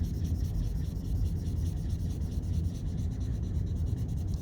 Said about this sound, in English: So I'm gonna go ahead and color these in.